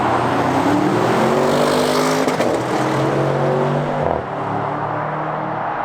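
Two 2021 Audi RS6 estates with Milltek exhausts cruise past at about 50 mph in fourth gear, a loud, droning engine and exhaust note swelling and then dropping in pitch as they pass.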